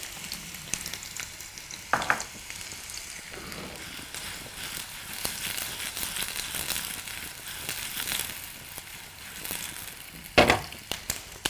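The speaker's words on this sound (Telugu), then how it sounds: "సో నా ఉల్లిపాయలు ఇంకా వెల్లుల్లిపాయలు ఇందులో సాటే అవుతున్న టైంలో" Onions and garlic sautéing in a pan, a steady soft sizzle running throughout with occasional sharper clinks of a utensil stirring against the pan.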